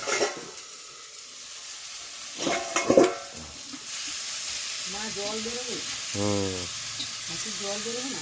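Sattu (roasted gram flour) sizzles and hisses as it fries in a hot pan, with stirring scrapes and a few louder bursts, while a voice speaks over the later part.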